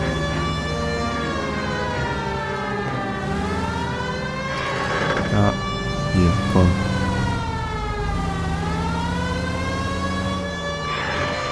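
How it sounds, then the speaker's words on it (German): A police car siren in the L.A. Noire video game wails in a steady rising and falling sweep throughout, loud and continuous, while someone talks briefly over it. "Ist ja nicht umsonst, dass wir die Sirene anmachen."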